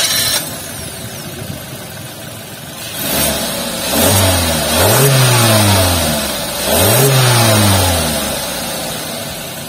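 A Suzuki XL7 Alpha FF engine turns over and catches, then revs up twice in rising, falling sweeps before settling toward idle, loud and close with no talk.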